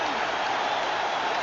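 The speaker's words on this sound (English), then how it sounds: "Bernard King, and listen to this crowd." A roaring crowd at a 1984 basketball game between Bernard King's team and the Boston Celtics, a dense, steady wash of cheering and applause filling the arena for the whole moment.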